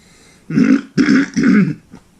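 A person clears their throat in three quick, raspy bursts, close and loud, followed by a faint short sound.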